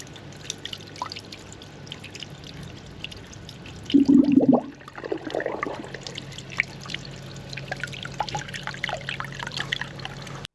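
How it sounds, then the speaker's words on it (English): Water pumped from a hose trickles and drips down a storm drain during heavy rain, with a louder gurgling surge midway before settling back to a steady dribble. "I took the light leader hose off and thought I'd just pump some water down it and see what happened."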